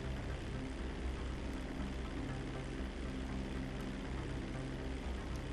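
A propeller airplane drones steadily in flight in the video game GTA 5, a continuous broadband engine hum with low tonal harmonics that stays even and moderately loud throughout, with no talk over it.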